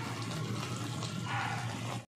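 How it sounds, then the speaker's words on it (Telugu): Water from a glass poured into mutton curry in the pot, a close, steady splashing gush that runs for about two seconds and then stops, with no speech. "వాటర్ వేస్తాను నేను"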